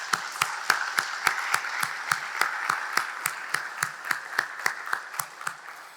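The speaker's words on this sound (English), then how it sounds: "Can you let us give you a round of applause?" Audience applause for elected and appointed local officials at a State of the Community address, a moderate room of rhythmic clapping with distinct sharp claps standing out, steady and continuous throughout.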